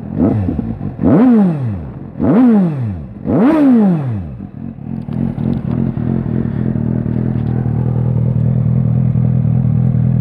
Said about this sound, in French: Alors la moto est pas très chaude, on va mettre des petits coups